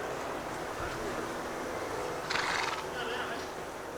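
A horse in the Chadian Sahel gives one short, fairly close whinny midway through, over a soft windy background with voices talking.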